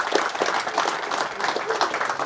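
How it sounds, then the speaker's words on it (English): Brief burst of audience applause at an Amiga Expo onstage talk, many hands clapping together in a steady roar from start to finish. "Huge round of applause for Simon Phipps."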